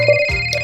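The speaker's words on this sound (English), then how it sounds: "I answered the phone." A phone ringtone playing, a bright electronic tone pattern with short repeating notes, loud and close, heard alone.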